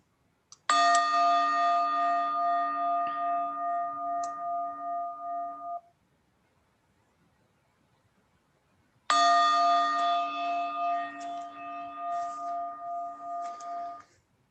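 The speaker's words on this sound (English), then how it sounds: "Listen to 3 bells carefully." Meditation bells ring in two long, clear sustained tones, each fading slowly over about five seconds, separated by a stretch of silence in a quiet room.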